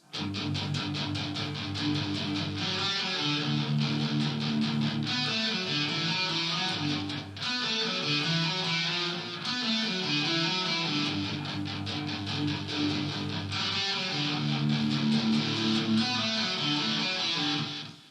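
A guitar plays a lead part over a steady, full band-style backing, with continuous picked notes and strummed chords forming a dense, uninterrupted musical passage at moderate loudness.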